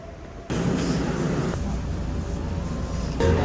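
A steady low rumble of a train at a station in Nagoya, Japan swells in suddenly and holds, loud and close, like a carriage moving or arriving nearby.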